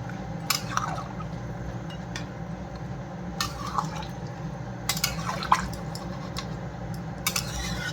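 Water splashes and pours into a pan of simmering chicken curry, with drips, light liquid gurgling and a few clinks of a vessel, close and fairly quiet with no talk.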